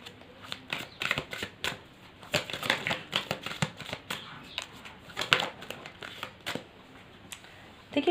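Tarot cards are shuffled by hand in a steady run of crisp riffling and flicking bursts, close and fairly loud, with no voices over them.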